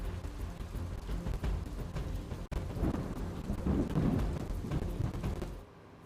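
Heavy monsoon rain pours steadily in Navsari district, Gujarat, a dense, loud roar of rainfall with low thunder rumbling through it. There is no speech.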